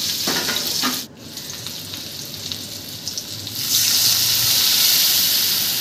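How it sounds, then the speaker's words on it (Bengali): Food sizzles and fries steadily in a pan while being stirred, a watery gush and hiss swelling louder near the end as water is poured in, with no talking. "হালকা নাড়িয়ে চাড়িয়ে এর মধ্যে সামান্য পরিমাণে জল অ্যাড করে দেবো।"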